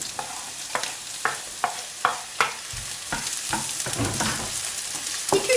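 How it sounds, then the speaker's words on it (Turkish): Onions sautéing in well-heated oil in a pan, a steady close sizzle punctuated by a quick series of sharp spatula taps, then a busier frying hiss with scraping stirs, and no talking. "Yağım iyice ısındıktan sonra soğanlarımı ekleyip kavuracağım."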